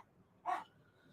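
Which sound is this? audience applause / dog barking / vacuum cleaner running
dog barking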